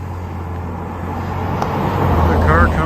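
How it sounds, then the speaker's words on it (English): A car drives past on a rural road around Micanopy, Florida, its broad tire and engine rumble swelling closer over a steady low hum from a nearby electric bike. "Let's let this car go by"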